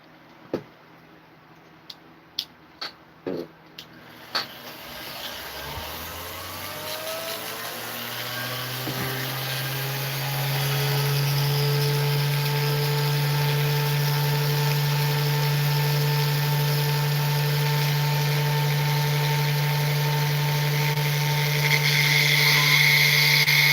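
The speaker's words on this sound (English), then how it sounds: "And now to start drilling." A jeweler's drill, used on a ring for stone setting, gives a few sharp clicks before spinning up into a steady, rising whine that holds a constant pitch for a long stretch.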